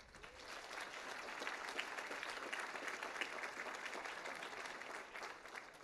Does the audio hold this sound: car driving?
no